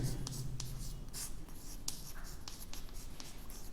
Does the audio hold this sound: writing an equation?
yes